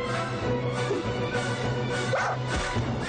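A dog barks and yips repeatedly amid a dense, busy mix of music and sound effects, with short whimpering cries in between.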